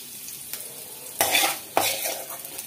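Chutney ingredients frying in a pan while being stirred, steady soft sizzle broken by two or three louder scraping strokes, close and without talk.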